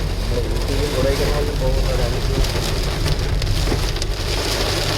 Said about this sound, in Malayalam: ഭയങ്കര മഴയാണ് ഫ്രണ്ട്സ്. മഴ കൂടി.